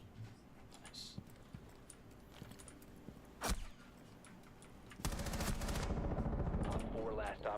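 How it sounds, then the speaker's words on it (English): Gunfire in Rainbow Six Siege, a single sharp shot followed moments later by a sustained rapid burst of automatic fire, amid quieter keyboard tapping and background game sound. "Accidentally shot my teammate"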